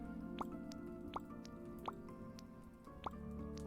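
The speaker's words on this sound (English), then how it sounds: "Get that thing filled back up with water." Water fills up in the cozy farm game Happy Sheepies, heard as a series of soft, evenly spaced drips or plops over a low, steady background hum.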